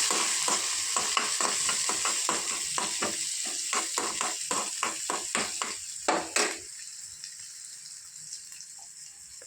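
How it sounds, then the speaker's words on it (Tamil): Onions sauté in a pan with rapid, rhythmic scraping strokes of a spatula over a steady sizzle; the stirring stops after about six seconds, leaving a faint sizzle. "வெங்காயத்தை போட்டு நல்லா வதக்கிட்டு"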